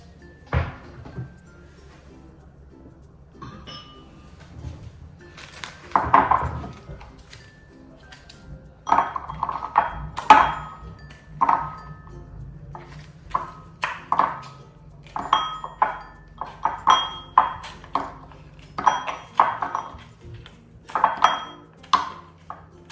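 Frozen lemon juice cubes are popped out of a flexible ice tray, a series of sharp clicks and light clinks spread irregularly across a quiet kitchen, some louder and closer than others.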